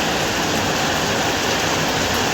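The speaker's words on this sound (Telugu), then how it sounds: "బయట వర్షం పడుతుంది కదా" Rain falls steadily outside a village home, a dense, even hiss that holds without pause.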